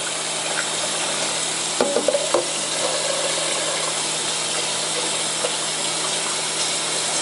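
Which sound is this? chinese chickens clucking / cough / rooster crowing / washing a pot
washing a pot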